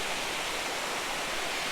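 Holden Clough waterfall pouring steadily, a continuous broadband rush of falling water heard close up with no other sounds over it.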